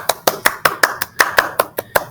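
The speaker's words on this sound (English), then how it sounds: "Let's do a clap." Rhythmic hand clapping, about ten sharp, evenly spaced claps close up, as a group claps together after a children's story.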